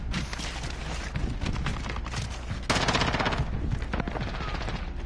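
Dense automatic and single-shot gunfire in a Call of Duty match, rapid bursts rattling continuously at close range with a heavier volley partway through.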